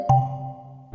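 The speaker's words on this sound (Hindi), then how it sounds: "और तभी उसे अपने फ़ोन की घंटी सुनाई दी" A mobile phone gives a single loud, clear ringtone chime that sounds sharply and then rings on, fading slowly before a second tone begins.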